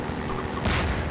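A single loud blast goes off partway through the Half-Life 2 game audio, a sudden broadband boom rising above a steady rumbling background.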